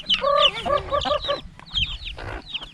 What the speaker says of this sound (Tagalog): Ayan yung mga native na manok.